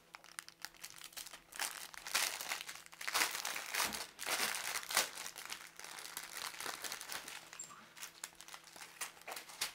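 Plastic bags of diamond painting beads being opened up close, busy crinkling and rustling with small crackles, steady and fairly quiet.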